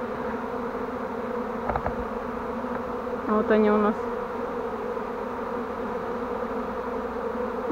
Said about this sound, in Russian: Представьте, что вы в 20 сантиметрах от роя пчел.